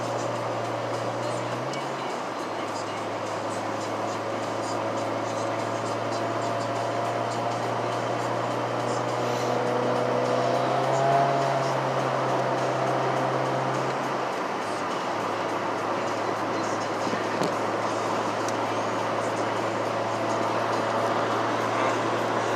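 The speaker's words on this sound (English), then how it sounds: "Getting on the freeway right now." Inside a VW Jetta MK3 with a slipping clutch and a JB-welded transmission, merging onto the freeway: a constant low cabin drone of engine and road noise holds steady, with a brief shift in pitch partway through.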